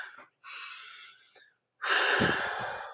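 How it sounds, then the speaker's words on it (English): A deep breath drawn in as a morning stretch, a short inhale, a pause, a second breathy pull, then a louder, longer airy rush of breath heard close and alone. "sit up tall and take a deep breath in"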